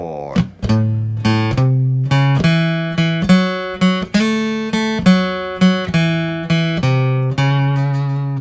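An electric guitar plays a walking blues rhythm pattern on the low strings, a steady repeating run of plucked bass notes with ringing chords, clean and close with no voice.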